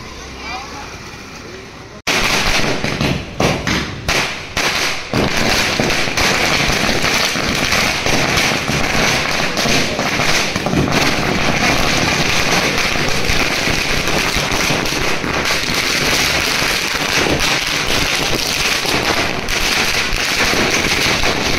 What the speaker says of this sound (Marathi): मोठी माळ लावतात फटाक्याची. थोड्याच वेळात उडवतील.